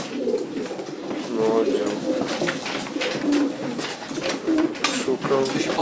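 Racing pigeons coo in a loft, soft rolling calls repeating throughout at close range, while someone speaks Polish over them.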